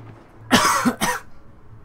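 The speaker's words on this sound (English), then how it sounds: "Ah, made me cough." A man's cough in a pair of close, loud bursts, heard during Battlefield 4 beta Conquest gameplay, with faint game ambience behind it.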